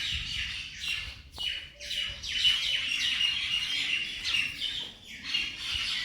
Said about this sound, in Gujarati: બધી ઉપર કાબરું બોલી રહી છે.